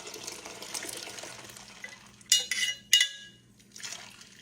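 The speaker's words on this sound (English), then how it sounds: "you've got your ice in here, a lot of it. And we're going to pour our tea in there" Watermelon tea is poured over a lot of ice in a gallon pitcher: a soft, steady liquid trickle, then a few sharp clinks and splashes of ice, all fairly quiet, with no talking.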